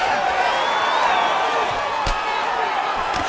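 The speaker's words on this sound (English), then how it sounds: "the crowd continues to react with every passing land" A crowd at a women's mixed martial arts bout between two fighters roars and cheers steadily throughout, a loud continuous wash of voices with one sharp slam-like hit partway through.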